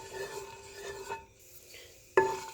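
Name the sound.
crushed red pepper flakes frying in hot oil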